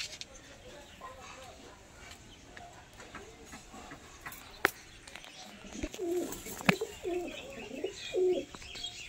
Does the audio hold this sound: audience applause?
no